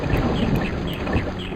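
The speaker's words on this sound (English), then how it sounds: "that is the sound of a Ysilmari" Ysalamiri creature cry in a Star Wars video game, a dense, rough rumbling texture with low roaring energy and a few faint high chirps recurring through the short stretch, heard alone with no talk.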